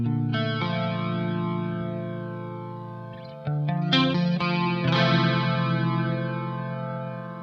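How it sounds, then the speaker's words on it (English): Clean electric guitar played through a flanger pedal, sustained chords with a sweeping, whooshing comb-like shimmer, close and loud, a stronger strum midway, no talking. "Next is a flanger."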